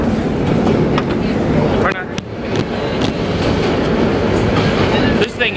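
A vintage R1 New York subway train rolls along the rails with a loud, continuous rumble and rattling clatter from inside the car, short clanks punctuating it, while people talk over the noise.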